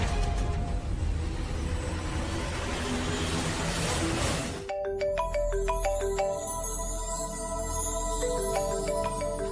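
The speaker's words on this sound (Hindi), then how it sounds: "अरे माया का फोन" A phone ringtone plays a bright, repeating electronic melody of evenly spaced tones, loud and close, beginning abruptly about halfway through after a stretch of dense, noisy background sound.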